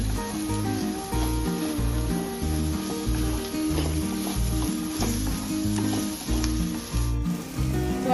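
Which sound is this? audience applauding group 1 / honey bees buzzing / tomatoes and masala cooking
tomatoes and masala cooking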